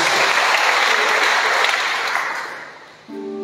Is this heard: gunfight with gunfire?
no